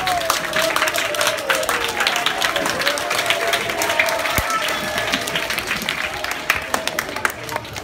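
Dense, loud applause from an audience for schoolchildren at a school visit, sustained clapping from many hands with some voices and crowd noise underneath, lasting the whole stretch.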